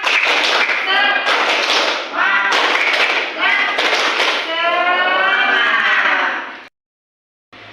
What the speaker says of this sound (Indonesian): untuk terakhir kalinya kita tepuk semangat boleh?